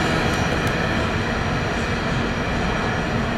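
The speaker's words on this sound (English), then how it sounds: "Amtrak train number 92, the Silver Star, coming by Folkston on track 1 with approach limited" Amtrak's Silver Star, passenger train number 92, passes close by on track 1 at Folkston with a steady, heavy roar of wheels and rail, broadband and unbroken throughout.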